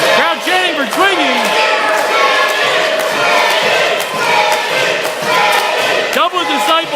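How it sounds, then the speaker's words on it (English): A pro wrestling event's crowd chants and roars in a big arena, loud and continuous throughout, with some thumps and shouted voices on top. "Crowd chanting for Twiggy."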